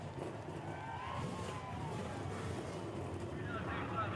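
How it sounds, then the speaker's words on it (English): NASCAR race car engines fire up together on the front straightaway at Edmonton International Raceway, a broad, continuous rumbling roar with wind noise and a voice talking over it. "The engines come to life here on the front straightaway."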